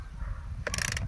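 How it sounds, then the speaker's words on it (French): Spring clatter from the starter of an Echo SRM250SI brush cutter as the pull cord is drawn out: a short, close burst of dry, rapid clacking after a quiet moment, with no voices. "vous allez entendre un son de clac, clac, clac, clac, clac. Parce que c'est le ressort en fait qui va se tendre."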